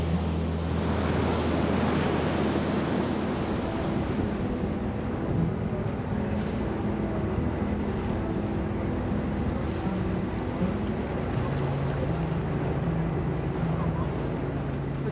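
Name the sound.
ocean waves along the island shore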